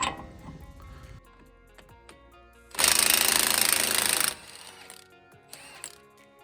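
An impact wrench fitted with a 32 mm impact socket hammers on the axle nut of a 1990–93 DA Integra in one loud, rattling burst of about a second and a half, with quieter workshop clanks before and after.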